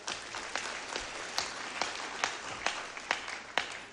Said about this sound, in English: Please, girl child, can you clap?